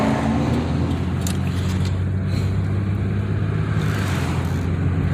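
A 1993 Chevy Lumina cruises along with a steady, smooth low engine and road rumble heard from inside the car, continuous and fairly loud throughout.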